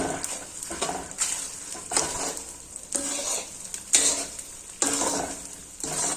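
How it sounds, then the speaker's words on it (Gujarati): A spoon scrapes and stirs an adadiya pak mixture in a hot pan in repeated strokes about once a second, over a soft continuous sizzle. "બસ હવે બધું જ આપણે પ્રોપર રીતે મિક્સ કરી દેશું"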